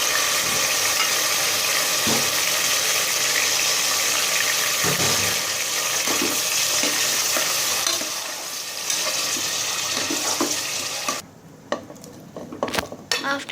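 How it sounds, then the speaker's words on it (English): Water poured into a pressure cooker holding oil-coated chicken hisses and sizzles loudly and continuously, then fades out into a few sharp metallic clinks of utensils against the pot. "Add some water, how much you need."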